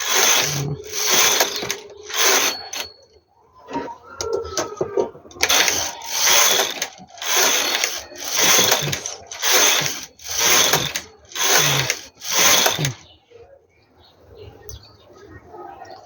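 Knitting machine carriage swept back and forth across the needle bed while knitting a baby romper, rattling and clicking in regular bursts about a second long with short pauses, close and loud.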